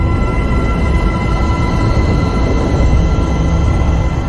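Early-universe primordial sound, decoded and pitched up to audible range, forms a steady, dense broadband rumble with faint sustained tones above, continuous and unchanging for a few seconds.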